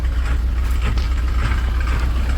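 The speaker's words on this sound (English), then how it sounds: "that's idling heaps better now" A steady, low engine of a 1980 Triumph TR7 idles close by, rumbling evenly without revving, and nobody speaks.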